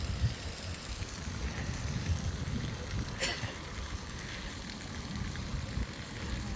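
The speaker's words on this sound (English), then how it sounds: "Wind is picking up." Wind blowing steadily outdoors in a small park, a continuous low rumbling buffet against the microphone with broadband hiss, fairly loud and unbroken throughout.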